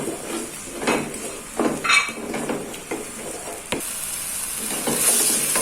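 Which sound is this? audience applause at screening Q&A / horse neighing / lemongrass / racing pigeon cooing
lemongrass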